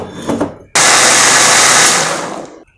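A mixer grinder roars for nearly two seconds, grinding adai batter with added water, then winds down. A faint murmur comes just before it starts.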